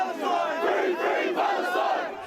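A protest mob chanting in unison, a loud massed crowd of voices rising and falling in rhythmic waves, heard close and continuous without any single speaker standing out.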